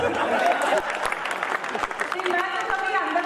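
An audience claps during a talk show, with a patter of applause and a few sharper individual claps under a voice speaking over them.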